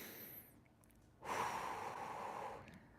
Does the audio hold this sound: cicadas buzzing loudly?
no